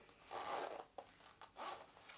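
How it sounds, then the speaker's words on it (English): Zipper on a thrifted leather jacket being zipped, two quick faint rasping pulls close by with a small click between them. "by double zip, I mean you can zip the base as well"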